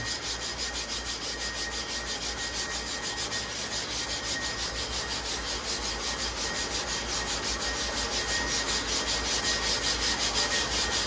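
Lister large animal clipper blades are ground on a grit-charged plate, giving a steady, continuous abrasive rubbing that stays close and even throughout, with no voices.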